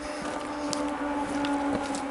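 A motorcycle engine on a Black Forest trail gives a steady, droning hum at moderate distance, heard alone and without voices for about two seconds.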